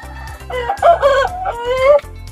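A Shamo gamefowl rooster crows outdoors, giving one loud, close, drawn-out call over a steady low background hum.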